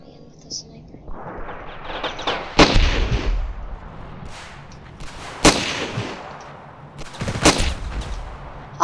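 Sniper rifle fire in the video game Ravenfield: three sharp, loud shots ring out at irregular intervals, each with a short echoing tail, over rumbling battlefield noise and a person speaking quietly.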